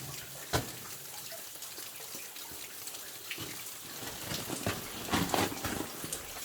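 Water pouring and dripping inside an old mine adit: a steady wash of running water with occasional splashy drips, close by and echoing softly, with no voice.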